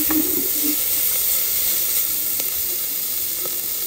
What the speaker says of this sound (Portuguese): Está aqui fritando um pouco a cebola, né?